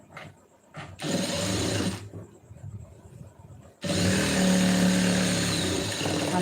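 A sewing machine stitches a lining blouse nearby, running in short bursts and then a longer continuous whirring run with steady mechanical buzz, briefly pausing between passes.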